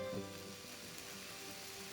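Water sprinkled onto a hot dosa pan sizzles with a steady, faint hiss, close by and continuous with no voices.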